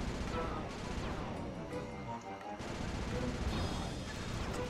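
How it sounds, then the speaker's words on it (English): Hunter seeker bombs exploding in the video game Sly 2: Band of Thieves, a rapid, dense series of loud bangs and crashing blasts, continuous and close with a brief lull midway. "Rajan is raining down a bunch of hunter seeker bombs on Murray."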